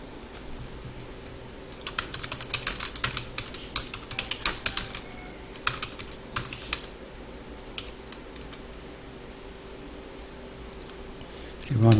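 Keys clatter on a computer keyboard in quick irregular bursts of typing, close and moderately loud over a faint steady hum, then fall quiet toward the end.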